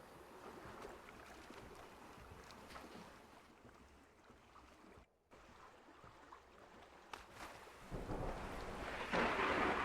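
Rain and rumbling thunder fill the game ARK: The Center, a constant wash of falling water with distant rolls, growing louder and more intense toward the end.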